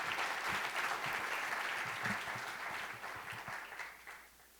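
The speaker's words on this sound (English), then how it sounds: "let's give our finalists a big round of applause." An audience at the AAU James E. Sullivan Award ceremony at the New York Athletic Club applauds its finalists in a dense burst of clapping that slowly tapers off toward the end.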